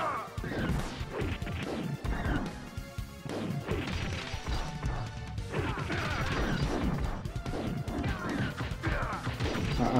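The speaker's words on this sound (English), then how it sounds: "There's something very satisfying about picking up these weapons and just smashing it" Background objects are smashed in The Ninja Saviours video game, producing repeated loud crashes and whacks in quick succession over busy game music and effects.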